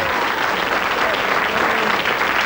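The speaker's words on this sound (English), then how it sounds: "Give him a round of applause as he goes there." A crowd claps for a prize winner as he returns to his seat, a dense, steady burst of applause filling the whole short stretch.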